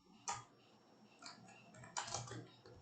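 Someone types a folder name on a computer keyboard, producing a few soft, close key clicks in small clusters, quiet and with no talking.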